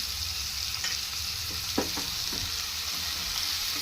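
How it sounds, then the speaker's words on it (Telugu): Onions frying in a pan with green chillies for a broad bean and tomato curry, a steady faint sizzle with a few soft stirring clicks near the middle, no voices. "ఆనియన్స్ వేగుతున్నాయి కదండి"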